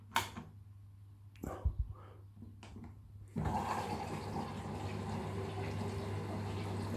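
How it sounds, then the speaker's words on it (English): Water rushing into a washing machine on its rinse cycle, powered from a 2400W portable power station: a few soft clicks and knocks first, then a sudden steady hiss of inflowing water that continues to the end. "So that's using a tiny little bit of power to put some water back in."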